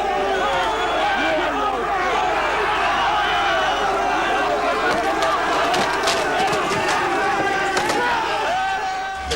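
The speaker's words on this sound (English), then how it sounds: "Then the crowd erupts." Crowd of angry striking miners erupts in a loud, dense roar of shouting voices with scattered bangs and thuds, close and continuous.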